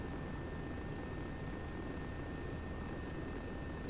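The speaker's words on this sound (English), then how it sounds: "Thought I heard a jet for a second." Steady broadband drone of an aircraft engine in a military simulation game, a continuous propeller-like hum holding at an even level for the whole stretch, with a faint high whine on top and no talking.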